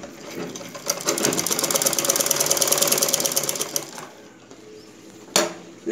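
A sewing machine stitches blouse fabric in a steady, fast mechanical whir that runs for several seconds, then slows and stops near the end with a brief sharp click.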